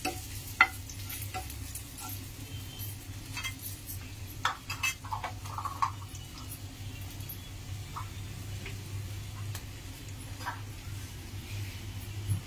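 Red chilli and cardamom are stirred in a frying pan, giving a faint, soft sizzle with occasional light clinks and scrapes of the utensil against the pan.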